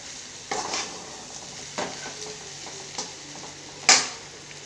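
Soft steady sizzle of potato stir-fry frying in a pan, with a few scraping stirs and a sharper clink near the end.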